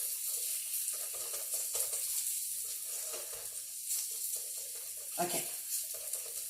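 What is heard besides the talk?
chicken sizzling in a stir fry pan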